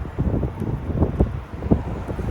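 Gusty wind buffets the microphone outdoors in South Texas during an e-bike ride, a steady low rumble with irregular thumping bursts, fairly loud and with no voices.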